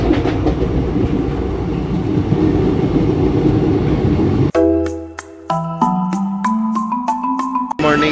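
A long-distance express train, the Shalimar–Okha Express, pulls into a station: loud continuous rumble and rolling noise, then rhythmic clatter of wheels over rail joints with a sustained horn-like tonal sound near the end.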